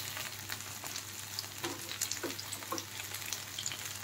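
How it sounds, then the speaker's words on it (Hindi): Corn and methi kebabs fry in oil, a soft, continuous sizzle with scattered light pops and crackles under a steady low hum. "अब ये दोनों तरफ से अच्छी तरह से फ्राई हो गए हैं"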